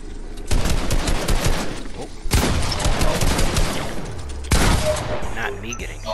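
Heavy bursts of close gunfire in a shooter game, three long loud volleys of rapid shots with sharp attacks and lingering rumble.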